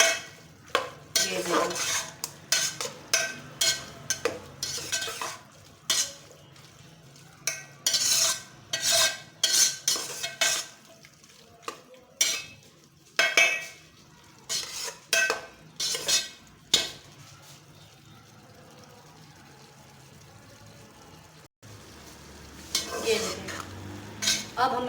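Chicken jalfrezi with coriander powder is stirred in a pan, with a utensil scraping and clinking against the metal in quick repeated strokes over a faint sizzle. A brief pause comes near the end before the stirring resumes, with a short spoken remark.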